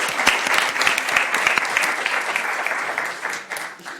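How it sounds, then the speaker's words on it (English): Conference audience applauding at the close of an event, a dense, sustained wash of clapping from a sizeable crowd that holds steady for several seconds and eases slightly toward the end, with a faint voice underneath. "Round of applause again."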